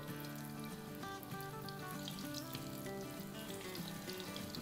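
Shami kababs frying in a pan over medium-low flame, with a soft, even sizzle and light crackle that holds steady throughout, quiet and close.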